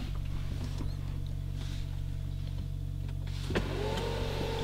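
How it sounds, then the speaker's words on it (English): Electric rear window shade of a Mercedes-Maybach S680 runs with a faint, steady motor whir inside the quiet cabin, over a low constant hum, ending in a small click. "Pressing that actually turns your back shade up and down."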